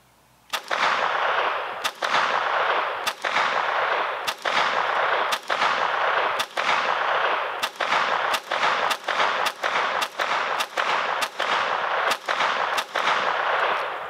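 A Taurus TX22 .22 semi-auto pistol firing Remington Golden Bullets bulk ammunition, about sixteen sharp, loud shots in an irregular but fairly quick sequence, alone with no talking.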